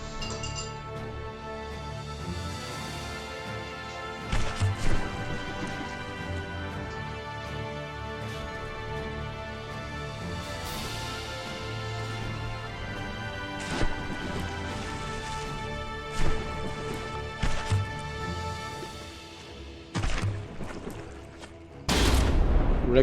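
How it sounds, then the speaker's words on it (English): Cannon shots strike a blocky warship in a naval battle in the game Dread Not, and chunks of blocks break away. Scattered sharp impacts and cracks sound over a steady din, ending in a loud crash. "some more shots landing, and a huge confetti of blocks falling out"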